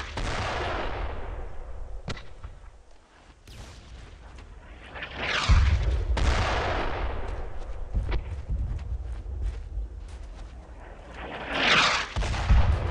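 Gunfire in the World War II game Brothers in Arms keeps up throughout, with sharp individual shots and bursts crackling over a rumbling battlefield backdrop, some cracks near and loud, others more distant.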